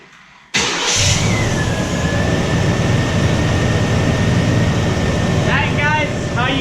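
A car engine starting right after a starter replacement: a brief crank, then the engine catches and settles into a loud, steady idle with a faint high whine, and people talk briefly near the end.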